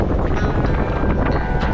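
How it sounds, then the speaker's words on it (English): Strong gusting wind buffets the microphone on a farm during lambing season in winds near 50 mph, a loud, continuous roar with no speech. "really, really windy"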